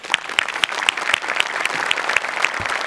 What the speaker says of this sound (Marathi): एकदा जोरदार टाळ्या माझ्यासाठी झाल्या पाहिजेत